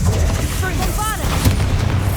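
A Bombarda spell cast during a spider fight in Hogwarts Legacy gives booming, explosive blasts that sit over dense, continuous game sound and music.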